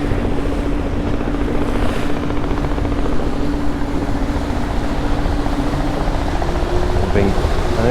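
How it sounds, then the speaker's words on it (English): Vita LION electric sportsboat, a 35-knot open-cockpit boat, throttling up on the water, a steady loud whirring drone with wash and wind rush, while someone talks over it. "Okay, so starting to throttle up a bit."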